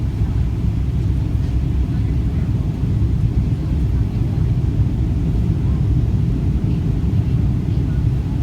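Airliner cabin during a rough landing in strong crosswinds at Las Vegas, a constant loud low rumble and roar of engines and airflow throughout, steady without distinct bumps.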